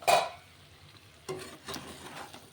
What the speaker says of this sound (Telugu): కొద్దిగా పుదీనా కొద్దిగా కొత్తిమీర కలిపి అనమాట కడిగి కట్ చేసుకుని ఉంచుకున్నాను అది వేసుకుంటున్నాను